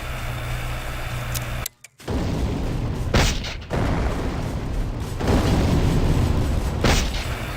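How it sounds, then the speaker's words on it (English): Mortar fire in the Empires mod game, several deep booms spaced a few seconds apart over a constant rumbling battlefield din, with one sharp cut to near silence between shots. "it's difficult to get a proper aim with the mortar, but very powerful"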